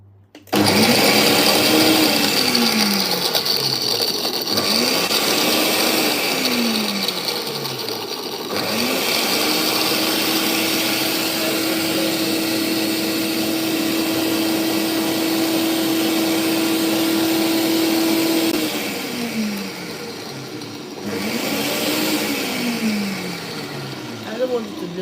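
A kitchen blender grinds fish heads in a loud, continuous motor roar with repeated pitch sweeps as it speeds up and slows down, then a long steady high whine before easing off; no talking is heard.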